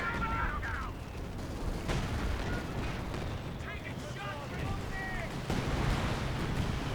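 Gunfire and heavy 17-pounder anti-tank gun shots ring out in a large Company of Heroes 2 battle, dense sustained rumbling fire with sharper bursts, heard under a fast excited commentator's voice.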